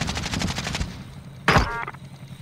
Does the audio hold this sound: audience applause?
no